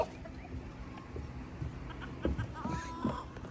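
Chickens cluck as they eat at a farmyard feeding spot shared with peacocks, with short, close, irregular clucks over a busy background and faint voices.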